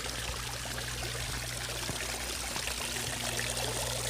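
Filtered water pours back into a backyard swimming pool at its return inlet, a continuous splashing, trickling flow heard up close over a steady low pump hum, with no voices.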